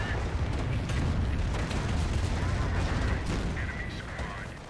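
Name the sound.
Calliope rocket launcher barrage in video game Company of Heroes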